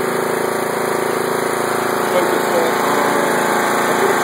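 A Craftsman lawn tractor engine runs steadily after a cold start, a close, loud, constant small-engine drone with a fine rapid pulse and no letup for the whole stretch.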